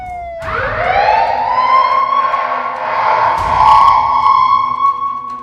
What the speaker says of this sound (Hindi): सायरन की आवाज गूंजती रही।